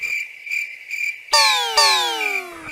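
Cartoon hovercraft noise for Grampy Rabbit in Peppa Pig: a steady, high, pulsing electronic buzz that breaks into two sharp, loud, descending swooping tones, close and without speech.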